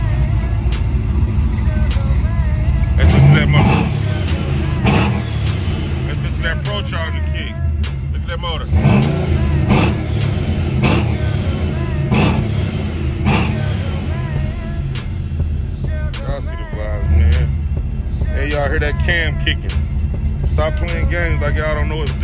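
Supercharged LS3 V8 in a 2023 box Chevy T-Rex revs with a steady, loud, rumbling roar through most of the clip while people talk over it.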